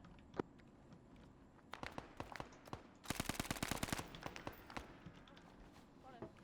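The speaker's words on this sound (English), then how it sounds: "Small firefight south of the position." Gunfire from a small firefight in a military video game: scattered sharp shots build into a dense, rapid burst of automatic fire, then trail off into sporadic nearby reports.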